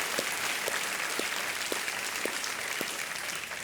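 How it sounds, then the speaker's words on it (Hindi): Sustained applause from a studio audience on the Hindi quiz show Kaun Banega Crorepati, welcoming a contestant: steady dense clapping throughout at an even level, with no talking over it. "तालियों के साथ इनका अभिनंदन किया जाए"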